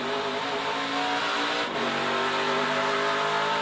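Onboard a NASCAR Craftsman Truck Series race truck during practice, the engine roars loudly and continuously at high revs as it runs high on the track, with a brief dip in pitch partway through.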